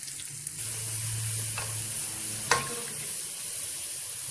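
A soft, steady sizzle of onions frying in a pan, with a faint clink of a utensil partway through and no talking.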